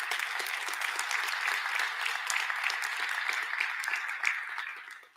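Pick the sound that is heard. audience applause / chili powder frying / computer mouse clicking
audience applause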